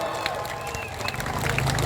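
A crowd of family planning field workers at an outdoor rally claps together, a dense crackle of many hands under a general crowd murmur that gathers strength toward the end.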